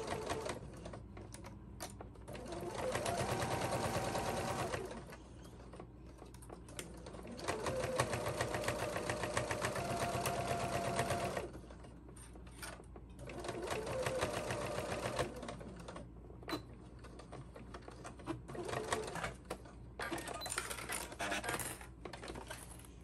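A sewing machine runs a very short 1/8-inch seam to close the pocket of a zippered fabric pouch, in four separate bursts of rapid close-up stitching with quiet pauses between them.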